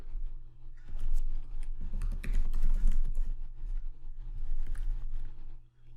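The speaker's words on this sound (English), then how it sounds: "Type Bluest Eye into the search bar designated for the name of a work." Keys clatter steadily on a computer keyboard as search terms for a novel title are typed into a literature database search bar, a close, continuous run of clicks over a low steady hum.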